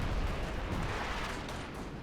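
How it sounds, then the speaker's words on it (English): Artillery fire in Company of Heroes 2, a dense, continuous rumble of distant shelling and impacts, fairly quiet and steady with no clear individual blasts. "Artillery is currently coming down."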